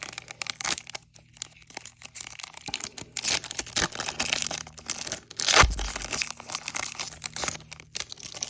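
Crinkling and tearing of a Japanese Pokémon booster pack foil wrapper, with scattered crumpling handling noises and one sharper rip midway, close and fairly quiet with no talking.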